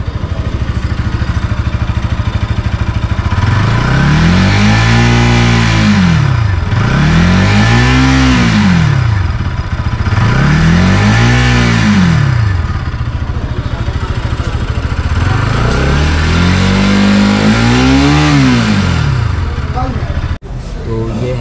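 A 2024 Bajaj Pulsar NS 200 motorcycle engine revs hard four times, each burst rising and falling in pitch, with a loud, throaty exhaust close by.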